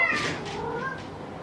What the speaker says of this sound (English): my cat's freaking out